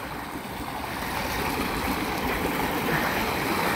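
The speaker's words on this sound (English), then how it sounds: "And the creek is running." Rain-swollen creek after two days of rain runs with a steady, broadband rushing wash, constant and fairly loud, growing slightly fuller partway through, with no voices.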